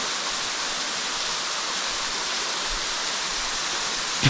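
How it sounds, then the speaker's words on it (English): Water gushes under pressure from the ceiling of a large borehole cave onto flowstone, a loud, steady broadband roar of falling water with no voices. "Dude, that water's pouring out of the ceiling."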